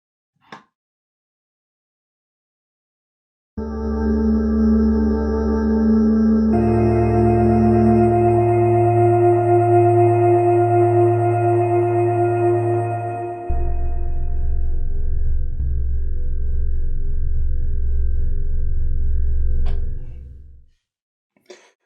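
A sustained, lush synth pad drone, the Misty Fourths feedback drone pad, plays alone, holding each chord for several seconds and shifting twice to a new harmony before fading out.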